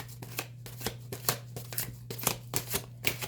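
Tarot cards being shuffled in a quick rhythmic series of soft riffling bursts, close and fairly quiet over a steady low hum.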